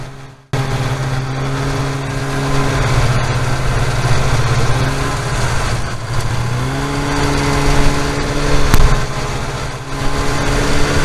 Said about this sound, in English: the roar of the snowmobile isn't overgoing my voice